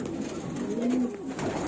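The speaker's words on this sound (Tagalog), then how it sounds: "Padating pala yung mga ibon." Pigeons coo at a pigeon loft, giving soft, low, repeated throaty calls close by, with a faint background hum and no speech.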